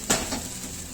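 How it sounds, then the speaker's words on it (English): Okonomiyaki batter spread with a spatula in a hot pan: a sharp scrape as the spatula strikes, then a steady close hiss of frying. "I'm going to use my spatula. Just spread it."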